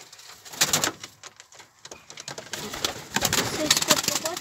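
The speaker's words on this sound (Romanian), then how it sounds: "porumbei au ieșit în volieră" Pigeons coo softly and continuously close by in a small aviary, with wings fluttering and feet scratching. The birds shuffle and tap around the space throughout.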